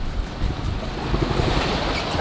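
Wind roaring across the microphone and waves rushing past a sailboat on a beam reach in about 20 knots of wind, loud and continuous.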